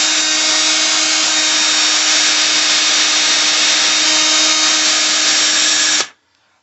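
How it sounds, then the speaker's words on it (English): A power drill with a masonry bit bores steadily into a bathroom floor at a toilet flange, loud, close and continuous with a sustained whine for about six seconds before stopping abruptly. "I'm gonna start drilling it with the masonry drill bit."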